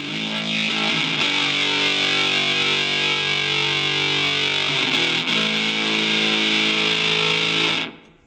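A heavily distorted electric guitar through a Zoom G7.1ut multi-effects unit rings out in a sustained, buzzing chord that holds for several seconds before cutting off abruptly, with no talking.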